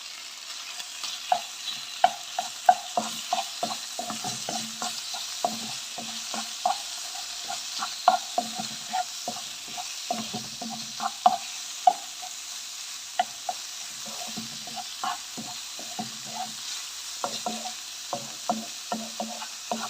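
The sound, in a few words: chicken breast with spices stirred while frying in a pan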